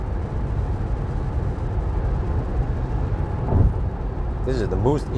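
Steady, loud low roar of a BYD Seal Performance's tyres rolling over fresh asphalt, heard from inside the cabin and continuous throughout, with a short stretch of voice rising over it near the end.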